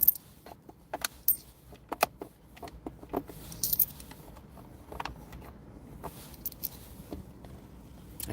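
Loose coins jingling and clinking as change is handled inside a car, light metallic rattles in scattered bursts, close and fairly quiet.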